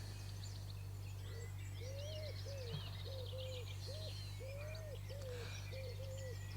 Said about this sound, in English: And you can listen to the bird song